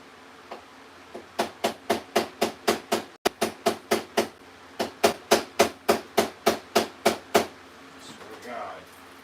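A hammer strikes repeatedly during a carburetor replacement on a 2003 Suzuki LTZ 400, about twenty sharp, loud metallic blows in two quick steady runs separated by a brief pause, with faint background sounds at the end.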